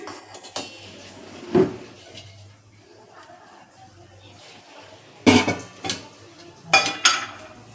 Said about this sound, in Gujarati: તેના પર એક વાસણ રાખીશું ફ્રેન્ડ્સ